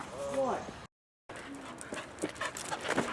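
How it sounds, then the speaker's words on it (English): A dog pants and whimpers close by, whiny tonal cries at the start, then a brief silence followed by more breathy panting and small whines with someone speaking over it. "Oh, doggy."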